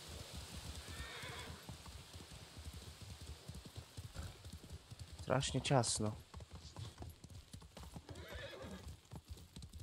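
Horse hooves clip-clop steadily through a rain-soaked setting in the video game Ghost of Tsushima, with a brief neigh partway through and someone talking over the hoofbeats.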